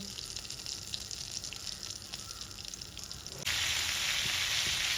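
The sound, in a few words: butter and oil heating and sizzling in pan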